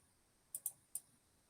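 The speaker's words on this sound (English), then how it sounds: "I'm going through and clicking all of the boxes." Three quick, sharp computer mouse clicks, the first two close together and the third a moment later, quiet and close, with no voices.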